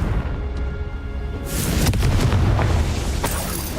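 A Confringo fire spell exploding in the video game Hogwarts Legacy: a loud, booming blast that breaks in abruptly after a low rumble and settles into a crackling, fiery roar.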